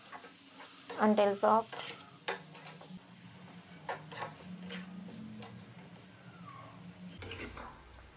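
Salted spinach is stirred in a pan with soft scraping and faint sizzling, quiet and close, with a brief spoken phrase near the start.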